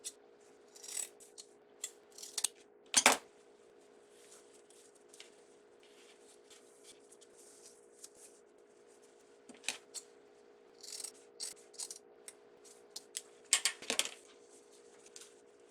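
Scissors snip through deco mesh, cutting it into 14-inch pieces for an Easter spring wreath: a handful of scattered, faint crisp cuts separated by long quiet gaps over a soft steady hum.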